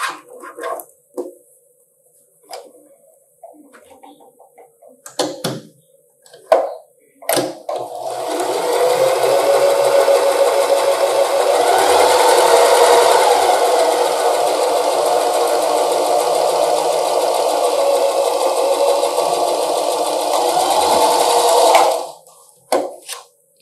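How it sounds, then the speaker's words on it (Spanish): A sewing machine stitches the top edge of a dress pocket, running in one steady loud burst for about sixteen seconds after a few scattered handling clicks and taps, then stopping abruptly. "vamos a coser en la parte del borde de arriba"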